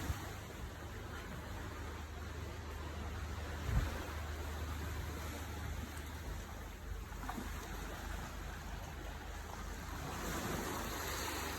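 Waves wash onto the beach at a resort in the Maldives, heard as a soft, steady surf rush that stays constant and fairly faint, with one small bump partway through.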